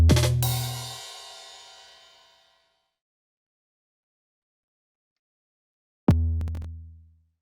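An FPC kick layered with an 808 in an FL Studio Afrobeat gospel beat: one deep booming hit decays for about two seconds, then after silence a second loud hit rings out.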